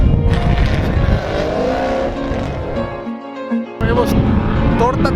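Drifting car spinning out at Willow Springs without using the e-brake, its engine and tires roaring loud and close over a crowd's chatter, then cutting out briefly before surging back.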